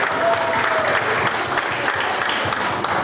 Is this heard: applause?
yes